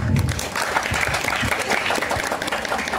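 A live audience applauds at a Balinese stage performance, a traditional arja-style show, with dense sustained clapping that fills the space and carries crowd noise, loud and steady throughout.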